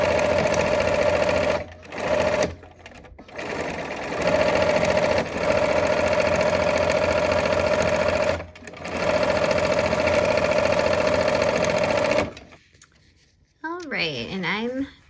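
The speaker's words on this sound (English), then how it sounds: "Okay, let's sew." Sewing machine stitching quilt pieces, a close steady mechanical whir with fast needle rhythm running in several bursts separated by short pauses, then stopping, followed by faint handling noises.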